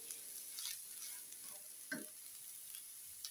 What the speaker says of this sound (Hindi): तमाम स्पाइसेस अंदर डाल दिए हमने। अच्छी तरह से मिक्स करेंगे।